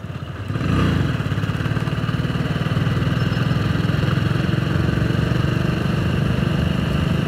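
Steelbird GT01 motorcycle riding along a road, its engine a steady, close, continuous drone that rises at the start and holds throughout with no speech.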